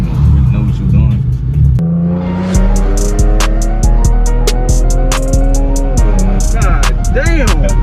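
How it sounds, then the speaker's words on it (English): A car revving hard from a cold start, its engine roaring loud and close with a rising, sustained tone, while sharp pops and crackles burst repeatedly from the exhaust over the top. "only time I shoot a video of my car popping and everything. You only do that off the cold start"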